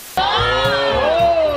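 A studio audience erupts into loud whooping and cheering, a sustained chorus of raised voices with a strong tonal cry on top, starting abruptly and staying at full volume to the end.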